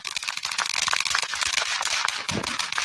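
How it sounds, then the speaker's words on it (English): A Tiny Titan consumer firework crackles in a rapid, dense burst of sharp pops and snaps, continuous and close for the full stretch. "Today I'm lighting off my first firework in over 5 years."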